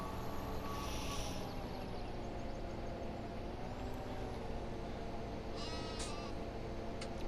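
Under a steady low rumble of engine noise, a sheep bleats faintly in the distance once or twice from a sheep farm beside the fields, its wavering cry short and thin.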